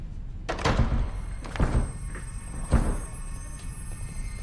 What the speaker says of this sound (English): you broke the door.